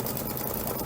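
A Kimberbell embroidery machine stitches out a hoop sampler, its steady, dense mechanical hum and rapid needle chatter running continuously and close without pause.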